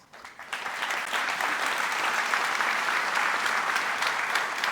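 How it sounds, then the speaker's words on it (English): Audience applause at a university academic awards ceremony for a thesis award winner, swelling quickly from a quiet start into steady, dense clapping that holds to the end. "Congratulations and an applause."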